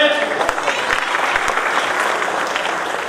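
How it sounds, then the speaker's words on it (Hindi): An audience at an Ambedkar Jayanti stage event gives brief, loud, sustained applause to welcome performers, a dense wash of many hands clapping with faint voices beneath. "एक बार जोरदार तालियों से स्वागत करें।"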